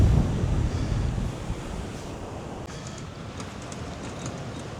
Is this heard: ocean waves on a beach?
yes